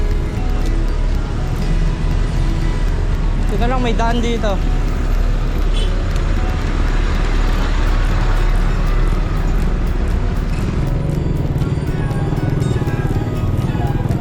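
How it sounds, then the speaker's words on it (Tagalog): Heavy, constant road traffic in Metro Manila with buses and trucks rumbling close by, engines droning throughout while someone speaks briefly over the noise. "Sobrang traffic, tas puro bus at saka truck."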